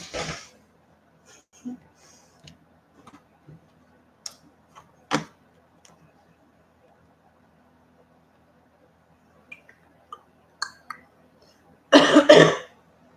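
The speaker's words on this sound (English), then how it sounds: "I gotta get rid of this cough. It is driving me crazy." Scattered coughs and throat clearing break a mostly quiet stretch, ending in a louder burst of harsh coughing close by.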